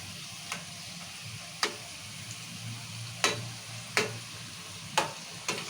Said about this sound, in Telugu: ఇలాగా తిప్పుకుంటూ తిప్పుకుంటూ కాసుకోవాలి